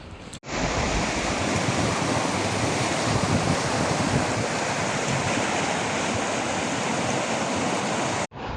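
Flowing river water with a standing wave in an English village, a dense continuous rushing roar, loud and close, with no voices.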